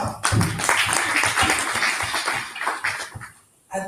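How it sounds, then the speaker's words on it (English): An audience at a civic engagement conference claps in a sustained round of applause that fades out near the end before a brief final burst. "Let's give her another clap."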